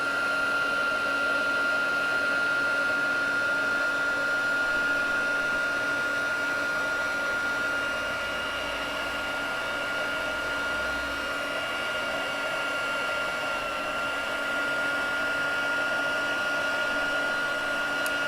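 A heat gun warms white embossing powder on a piece of card, giving a steady, loud blower whine with a constant high-pitched motor tone that runs unbroken and alone throughout.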